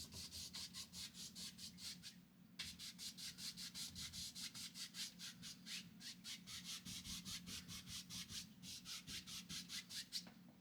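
A paint brush blending liquid white across a canvas in long, rhythmic back-and-forth strokes, a soft dry scrubbing repeated steadily, close and quiet, with a short pause partway through.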